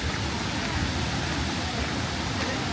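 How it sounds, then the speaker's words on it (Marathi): Savdav waterfall in the Konkan roars as a steady, dense wash of falling water, constant and unbroken, with no voices over it. "इथूनच धबधब्याचा आवाज तुम्ही ऐकू शकता"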